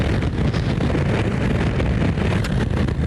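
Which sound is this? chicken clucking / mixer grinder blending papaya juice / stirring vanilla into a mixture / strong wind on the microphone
strong wind on the microphone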